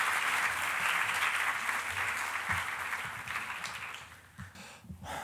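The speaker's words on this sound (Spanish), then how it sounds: "Por favor, acompáñenme con un caluroso aplauso para nuestro expositor." An audience at an economics lecture applauds to welcome the speaker, a dense, steady wash of clapping that slowly fades over several seconds and leaves a few scattered claps and murmurs at the end.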